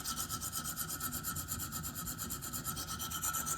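Rhythmic rasping strokes of a KME sharpener stone against a Spyderco PM2 knife blade in S35VN steel, steady back-and-forth scraping at an even pace, close and loud with no voices.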